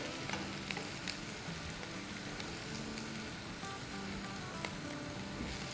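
Chopped onions fry gently in a pan after about five or six minutes, softened and lightly caramelized, with a constant close sizzle and faint crackles and spatters throughout, no talk.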